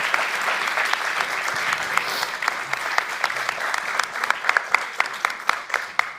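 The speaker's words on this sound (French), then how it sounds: "Je pense qu'on peut les applaudir très fort." Loud, sustained applause from the audience at the final of a world eloquence contest in Paris, many hands clapping densely with sharper individual claps standing out toward the end.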